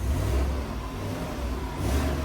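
A Chevrolet Suburban RST's engine revs under acceleration, a loud, steady low rumble with rising throttle that holds for a couple of seconds and swells again near the end, with no voices.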